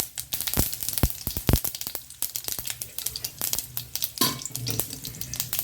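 Mustard seeds, urad dal and a dried red chilli sizzle and crackle in hot oil while peanut chutney is prepared, with sharp pops and spits scattered irregularly over a soft frying hiss, close and moderately loud.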